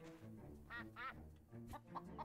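Short bursts of duck quacking from a farm animal in the game My Time At Portia, several harmonic calls over steady background music, with a brief voice underneath.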